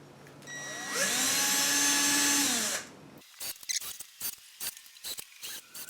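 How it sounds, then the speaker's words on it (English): A power drill whines loudly for about two seconds drilling pilot holes in sheet material, its pitch rising then falling, followed by several short clicks and clatters. "just drilling the pilot holes"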